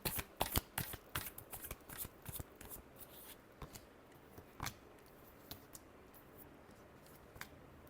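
Tarot cards are shuffled close up in a quiet room, producing sharp riffling bursts that start dense and thin out to sparse flicks.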